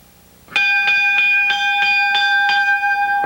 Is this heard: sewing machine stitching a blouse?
no